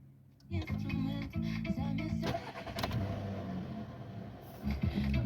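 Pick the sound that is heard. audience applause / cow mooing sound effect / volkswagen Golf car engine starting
volkswagen Golf car engine starting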